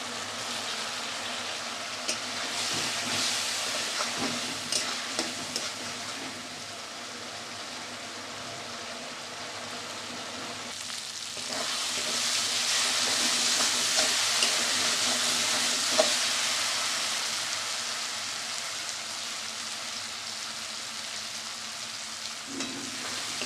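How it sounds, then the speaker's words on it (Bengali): Spice paste fries in hot oil in a pan, sizzling steadily and loudly. A spoon stirs and scrapes through it throughout, and the hiss swells in the middle. "ভালো করে মশলাটা আমি কষিয়ে নেব।"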